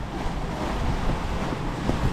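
Ocean waves wash steadily against a sailing boat under way at sea, a broad, continuous rushing hiss mixed with heavy wind buffeting the microphone, loud and close with no talking.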